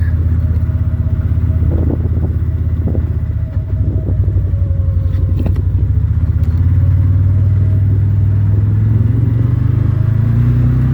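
A stock CFMoto U-Force 800 XL crew side-by-side drives in high range, its engine giving a steady, loud low rumble with clattery drivetrain noise that rises slightly as it pulls along the road.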